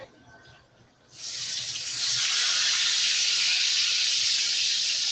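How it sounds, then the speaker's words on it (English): Chicken sizzles loudly in a hot pan, a bright steady hiss that swells in after a quiet start and holds evenly, close and without talk. "Hear that sizzle?"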